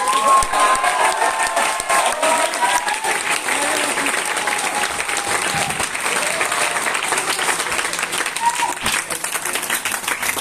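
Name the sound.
audience applause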